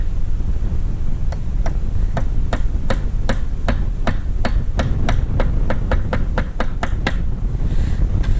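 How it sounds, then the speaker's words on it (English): A hammer drives a large nail into roof slate in a rapid, steady series of sharp taps, about twenty blows, close up over a low background rumble. "So, big nail because of a big length. Okay, hammer."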